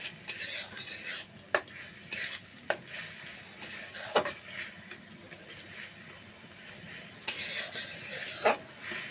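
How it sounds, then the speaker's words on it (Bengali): Ridge gourd sautéed with spices in a pan, a spoon repeatedly scraping and stirring over a soft, low sizzle, with sharper clanks now and then. "ভালোভাবে মশলাটা দিয়ে ঝিকাটা আমি কষিয়ে নিচ্ছি"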